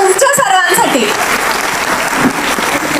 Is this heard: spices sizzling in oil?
no